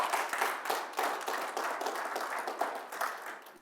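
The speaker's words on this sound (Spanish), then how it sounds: "Dale un aplauso al Señor por eso." A church congregation claps together in sustained, dense applause during a Sunday service, loud and steady throughout with no pauses.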